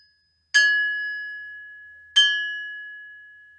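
Two sharp metallic strikes, each ringing out in a long, clear bell-like tone that slowly fades; no voices.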